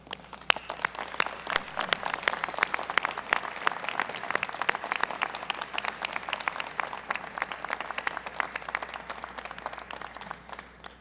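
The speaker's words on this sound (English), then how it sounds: "Will you please stand and give them a round of applause?" A graduation audience at a 2021 SUU School of Business convocation applauds the graduates, a dense, sustained clapping that holds steady for about eleven seconds with no speech over it.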